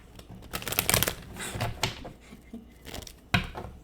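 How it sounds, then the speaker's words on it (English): Tarot cards are shuffled by hand: quick papery riffles and soft taps in uneven bursts, close and fairly quiet, with no talking. "I love making faces as I shuffle my cards."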